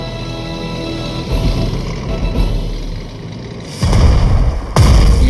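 Anti-tank gun firing at an enemy tank in the strategy game Strategic Mind: Blitzkrieg, heard as a couple of loud booming shots that break in abruptly over a steady rumbling battlefield background.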